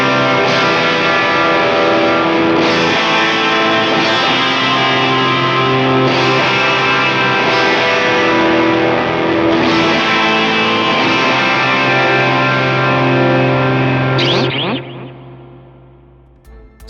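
Distorted electric guitar strums sustained open chords, each ringing out with delay and reverb trails, before fading into a brief tail at the end.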